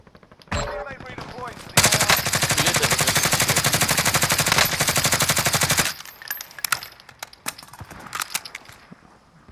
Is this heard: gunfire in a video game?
yes